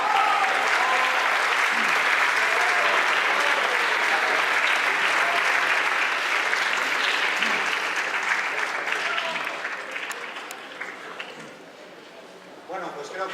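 Audience applause fills an award ceremony for a parents' association and professional-level music students: a dense, sustained clapping that holds steady for most of the stretch, then thins and fades toward the end.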